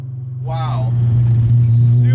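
A VR6-swapped VW Mk2 GTI hatchback holds a loud, steady engine drone that swells slightly as the throttle is blipped, with a person talking over it.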